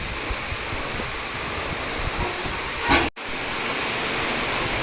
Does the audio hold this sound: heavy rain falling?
yes